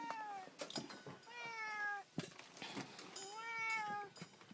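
A house cat gives several drawn-out, rising and falling meows close by, separated by short pauses, with faint rustling and handling noises between the calls.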